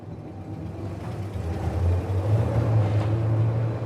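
A 1966 GMC pickup truck with a three-on-the-tree manual gearbox pulls away, its engine giving a steady low rumble that builds slightly as it gets moving, heard from inside the cab.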